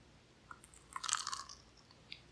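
Someone bites into a Trader Joe's mini spicy pumpkin samosa, giving a short burst of crisp, crackly crunching in the middle, with a few fainter chewing clicks before and after in a quiet room.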